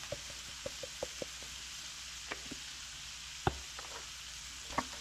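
A Tex-Mex meat mixture seasoned with cumin and seasoning salt sizzles faintly in a pan, broken by a few sparse spoon taps and scrapes as it is stirred, quiet and without talk.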